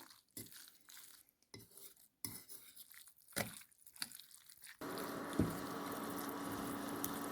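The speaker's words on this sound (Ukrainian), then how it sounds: "Ретельно, дуже ретельно розмішуємо." Fish mince for steamed cutlets is stirred by hand in a bowl, with soft irregular scraping and squelching strokes separated by short quiet gaps, then a denser continuous mixing noise near the end.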